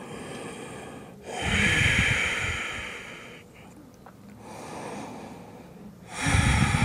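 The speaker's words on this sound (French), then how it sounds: "Des respirations fluides et douces." Slow, soft breathing during a hip stretching exercise: close, audible inhales and exhales in about three unhurried cycles, with quiet pauses between breaths.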